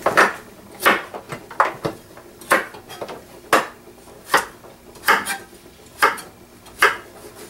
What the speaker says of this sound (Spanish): Ahora voy a cortar los vegetales.